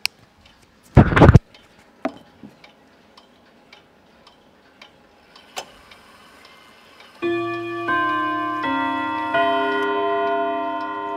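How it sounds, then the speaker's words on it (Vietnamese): Antique French Odo 62/8 clock with a floating-numeral case: a few soft ticks and scattered knocks, then a loud bright chime melody of ringing tuned rods sustaining over the last few seconds, close and alone. "bây giờ em xin được mời các bác được thẩm âm một cái bản nhạc quét mà chiếc đồng hồ này mang lại."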